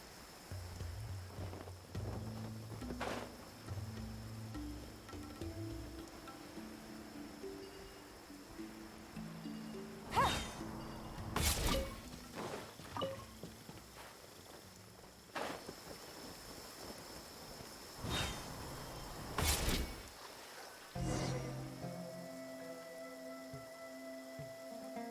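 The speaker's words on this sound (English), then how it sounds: "It's raining again?" Steady rain falls in Genshin Impact, a constant wash of drizzle with occasional sharp thunder-like cracks and rumbles, under a soft game music bed with no voices.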